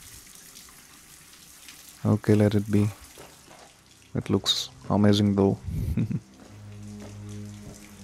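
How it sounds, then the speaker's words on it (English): Flowing water in the video game Hitman 2, a steady soft rushing and trickling bed heard throughout, partly under a man's speech in two bursts. "I really love the, you know, rippling effect and water flowing through"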